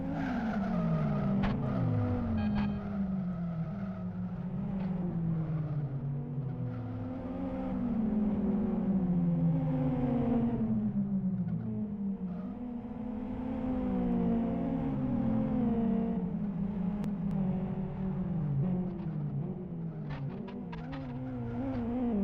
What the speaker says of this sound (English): So there's a nice pile up at the end of the finish straight.